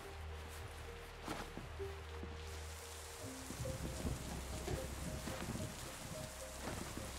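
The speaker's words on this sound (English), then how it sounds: "It's a rainy night." Rain falls steadily through a nighttime city scene in a video game, a soft continuous patter with low rumbles and occasional thuds mixed into the ambience.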